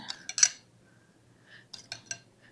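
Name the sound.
spoon opening up baked hasselback potatoes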